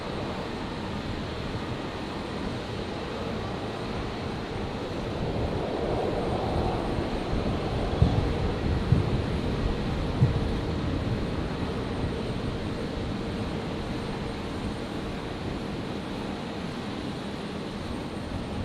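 A Virgin Boeing 737-700 jet taxis for departure at Brisbane Airport, a steady, moderately distant engine rumble and hiss that swells slightly midway, with a few faint clicks.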